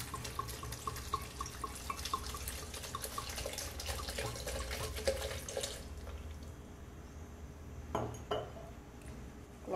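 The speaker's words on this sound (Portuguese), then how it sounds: "Vou colocar um pouco de água já." Water poured from a tap or jug into a kitchen blender jar while making orange-peel juice, a bubbling pour with light clinks, then a quieter stretch and a few knocks of glass or plastic.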